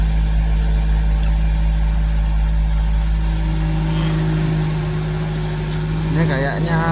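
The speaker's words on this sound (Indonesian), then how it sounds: "Ini kayaknya tuh knalpotnya ada bagian yang dicopot, jadi suaranya tuh agak kencang dikit." A Nissan Grand Livina L10 automatic idles cold with an exhaust section removed, a loud steady low rumble droning throughout, with a brief higher warble near the end.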